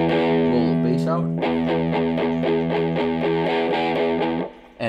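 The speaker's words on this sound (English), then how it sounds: "It's kind of fuzz distortion. It's kind of muddy." Electric guitar played through a 1982 Dean Markley RM-150-DR amp with muddy fuzz distortion, loud sustained chords and a rhythmic strummed pattern filling the clip before cutting off at the end.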